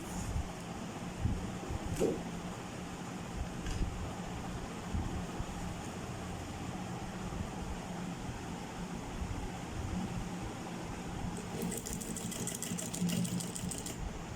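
A sewing machine runs steadily as it stitches a fabric strip along the corner of a crochet bag, a close, continuous mechanical whir with a rapid ticking burst near the end.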